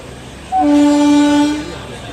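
A passenger train running from Tiruchendur to Tirunelveli sounds a loud horn blast lasting about a second, close by, over the steady rumble of the moving carriages.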